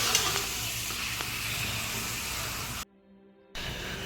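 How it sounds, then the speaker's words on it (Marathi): Urad dal papad frying in hot oil makes a continuous close sizzle and crackle, which cuts out abruptly for under a second before resuming. "आम्ही उडदाचं पापड पण तळत आहे"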